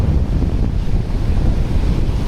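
Sea waves roll in steadily against a constant rush of wind buffeting the microphone along a seaside park garden in the evening after a day of rain, loud and continuous with no voices.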